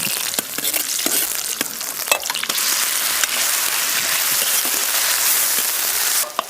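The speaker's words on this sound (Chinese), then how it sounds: "锅里倒油，先炒牛肉，蘸点葱姜蒜末、干辣椒。" Beef stir-fried in hot oil in a wok with scallion, ginger, garlic and dried chili gives a loud, steady hiss and sizzle, broken by sharp clicks and scrapes of stirring, with no talk.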